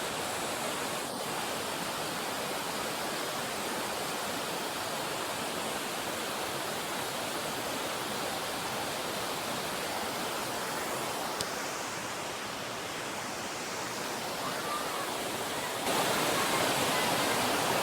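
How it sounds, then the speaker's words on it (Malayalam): The Ezhunila waterfall above Thommankuthu roars as a steady, loud wash of falling water close by, unbroken throughout with no talk. "അപ്പോൾ ഇതാണ് തൊമ്മൻകുത്തിന് മുകളിലുള്ള 7 നില കുത്ത്."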